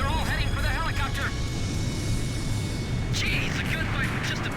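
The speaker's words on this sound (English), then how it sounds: "The enemy planes are all heading for the helicopter." Enemy fighter planes in the Ace Combat 5 video game roar as a constant jet-engine rush, loud and sustained, with radio-style voices talking over it and brief whooshing passes.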